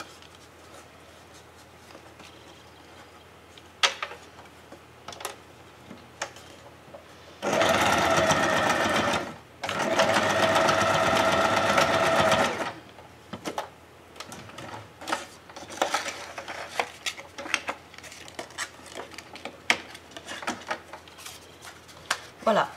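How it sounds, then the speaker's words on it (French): A sewing machine stitches along a fabric pen-holder embellishment in two steady, close, whirring bursts of several seconds each, with quiet handling clicks and rustles around them. "et on va coudre tout le long."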